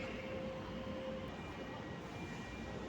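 Low, steady rumble of a train at PKP Kraków Główny station in the evening, with a faint thin whine running over a constant wash of station noise.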